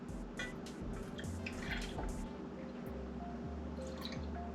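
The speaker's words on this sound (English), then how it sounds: "what we're going to do is we're going to put the 300 milliliters of milk into" Skim milk poured into a Redmond 008 milk frother, a soft, steady liquid trickle and glug close by, continuing faintly under a low droning background for the whole stretch.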